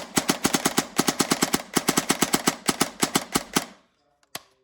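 A gun fires on full auto in loud, rapid bursts of sharp reports with tiny pauses between them, then stops, followed by a single faint click or shot.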